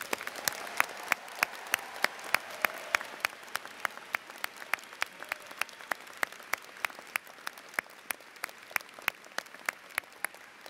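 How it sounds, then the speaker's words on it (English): A crowd at a law school commencement ceremony applauds the graduating class of 2010, sustained hall applause with many crisp individual claps popping out above the steady wash, continuing for about ten seconds. "I encourage you all to join me in a round of applause for the class of 2010."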